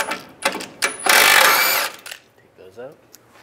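A power tool with a 15 mm socket spins out the nuts on the cross member that holds the transmission support of a 2007-2013 Chevrolet Silverado. It makes a loud, close whirring burst of about a second, with brief clatter before and after.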